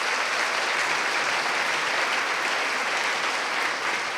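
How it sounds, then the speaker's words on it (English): An audience claps in a dense, continuous round of applause at a songwriters' award induction ceremony, loud and even from start to finish with no talk over it. "That's worthy of a round of applause."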